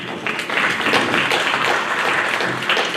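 A seated audience at a Little Rock panel event in 2016 applauds, producing a steady, dense wash of claps that holds at an even, moderate level for a few seconds with no talking over it.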